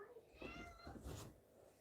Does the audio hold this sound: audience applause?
no